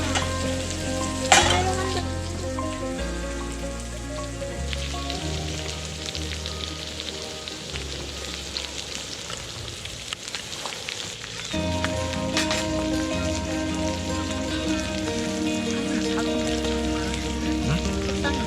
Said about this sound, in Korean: 그리고 소막창 그리고 이베리코 목살입니다 지금 팔팔 끓이고 있는데요